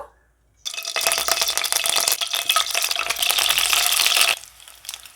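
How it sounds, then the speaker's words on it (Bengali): Boiled eggs hitting hot oil in a pan: after a brief quiet moment, a sudden loud crackling sizzle bursts up and rages steadily for several seconds before dropping away, close to the listener. "এবার সিদ্ধ করে রাখা ডিমগুলো ভেজে নেব"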